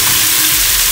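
Oil sizzles and fries steadily in a pan while Indian khichdi is being cooked, a dense, loud, continuous hiss with no talking over it.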